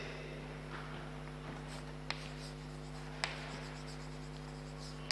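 Chalk writing on a board in a physics classroom: faint scratchy strokes with a few sharp taps, quiet and somewhat distant over a steady electrical hum, with no speech.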